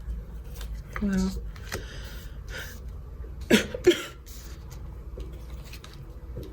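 A few short coughs, one early and a sharper pair in the middle, in a quiet room with faint background noise.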